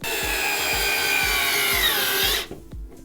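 A powerful cordless electric screwdriver running at maximum setting backs a screw out of wood: a loud, steady whirring grind with rhythmic knocking pulses about twice a second, cutting off abruptly near the end.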